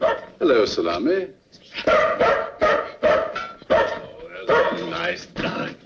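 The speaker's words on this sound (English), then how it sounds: "Nice dog." A dog barks and yips in short bursts, close by, mixed in with overlapping speech from several people throughout.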